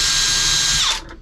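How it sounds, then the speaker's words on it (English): A self-centering drill bit whines at high speed for under a second while boring a tiny pilot dot for a number 4 mild steel screw in custom boat cabinetry, then spins down and stops, loud and close. "I'm going to use my handy dandy self-centering drill bit"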